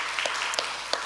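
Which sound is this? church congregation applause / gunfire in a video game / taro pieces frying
church congregation applause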